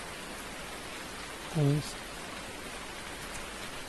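Steady rain falls in a farming simulator video game, a constant even hiss throughout, briefly overlaid by a short spoken word.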